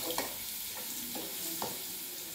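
Garlic fries in oil in a kadhai with a soft, steady background sizzle, broken by a few light scraping stirs of a spoon against the pan.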